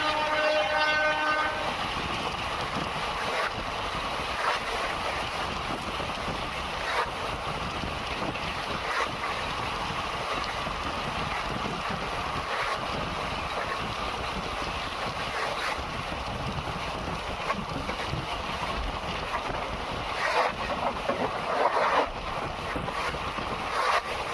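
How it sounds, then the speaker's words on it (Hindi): Bikaner–Delhi Sarai Rohilla SF Express running through Juharpura station without stopping, a steady loud rumble of wheels and carriage noise throughout, with a brief horn-like tone near the start. "तो ट्रेन अब स्किप करने जा रही है जुहारपुरा रेलवे स्टेशन को"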